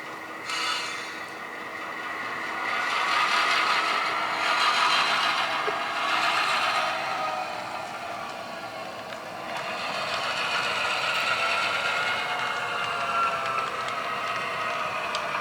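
A locomotive creeps slowly along rails set in a city street in Orange, California, giving off faint grinding and rattling wheel and coupling noise with squealing tones, some distance away and steady throughout.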